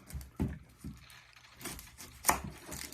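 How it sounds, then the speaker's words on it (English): A knife chops sweet onions on a board, making several close, irregular dull thuds with soft scraping between them and no talking. "So now I'm cutting up the sweet onions."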